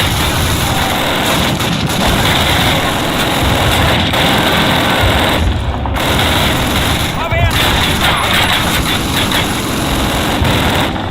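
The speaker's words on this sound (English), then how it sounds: "This is an AA gun." An AA gun in Call of Duty keeps up a loud, dense roar of rapid firing with a continuous mechanical drone, a few brief gaps breaking the noise.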